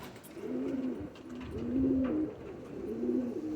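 Pigeons in a loft, eager to fly, coo in low, rolling phrases that repeat in a slow rhythm, close and fairly steady, with faint background noise.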